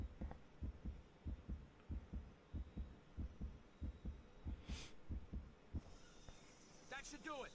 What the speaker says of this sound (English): So that's the heartbeat thing I was hearing. I was much lower on health than I thought I was.